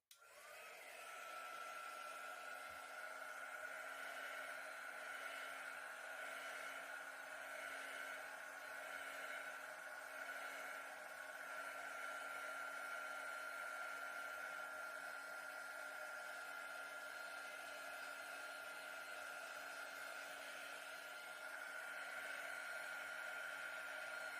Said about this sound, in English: So now I'm going to hit this with a heat gun and see if that does anything.